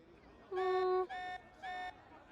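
An electronic alarm in the video game Xenoblade Chronicles 3 blares in three loud harmonic bursts, one long tone followed by two shorter ones, sounding alone with no voices.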